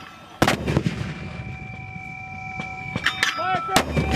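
An M252A2 81mm mortar fires during a U.S. Marines drill at Schofield Barracks, with several sharp, booming reports spread across the clip and fainter thuds and ringing tones between them, outdoors.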